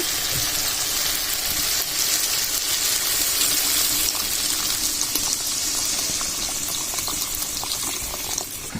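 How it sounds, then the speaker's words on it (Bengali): Water poured into cooked-down masala for a tilapia fish curry, making a steady rushing, hissing pour that continues evenly with no talk. "আর এখন দিয়ে দিব জল।"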